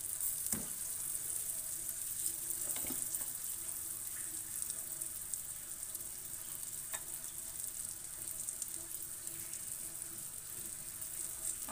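Banana with cheese frying over medium heat in a hot teflon pan, a soft, steady sizzle with a few faint clicks, fairly quiet and continuous with no voices.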